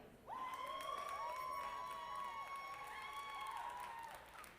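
Applause and cheering from an audience at a junior market turkey showmanship contest, steady and sustained for several seconds, with whistles ringing out over the crowd noise before it tapers off.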